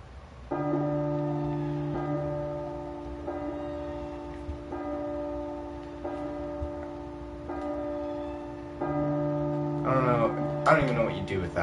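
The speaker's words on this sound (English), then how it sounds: "the bell is tolling" A church bell tolls in the Silent Hills PS4 demo horror game, six or seven slow, evenly spaced resonant strikes that ring out and decay, followed by eerie rising music at the end.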